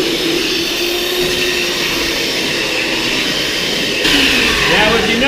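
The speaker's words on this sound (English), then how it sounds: "I'm gonna dig in with the belt sander" A belt sander grinds into a soft ponderosa pine plank in a wood shop, a steady, loud motor whine with grainy abrasive noise that surges louder near the end.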